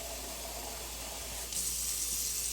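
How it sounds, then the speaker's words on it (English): Tap water runs steadily into a pot of taco bowl filling made with chicken stock, a constant close hiss that brightens and grows louder halfway through. "it calls for a little bit extra water"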